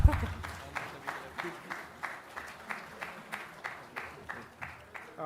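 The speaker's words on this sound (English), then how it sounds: "Please clap." Rhythmic clapping for graduates at a university convocation ceremony, hands beating together in a steady, evenly spaced pulse at moderate volume over a soft crowd background.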